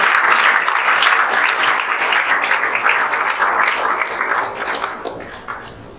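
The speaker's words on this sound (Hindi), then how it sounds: "जोरदार ताली बजा दीजिए आप" Loud, dense applause from a hall audience at a JEE Main results celebration honoring top-ranked students; clapping starts strong, holds steady, then gradually fades toward the end.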